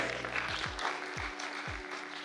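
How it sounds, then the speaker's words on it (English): A seated audience at a valedictory event in Abuja applauds in a steady, dense wash of clapping that fills the whole moment, with faint low tonal sweeps underneath. "as you are clapping"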